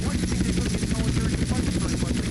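Steady, loud rotor drone of the Skycrane helicopter in the GTA San Andreas video game, an unbroken whirring hum with fast chopping pulses running throughout.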